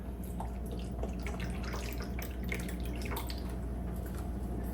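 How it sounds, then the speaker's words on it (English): Water trickles and splashes steadily as the water tank of a Dreo Chef Maker air fryer is filled in a kitchen, a continuous close pour with light dripping and no talking. "I'm gonna open this up, fill it with water."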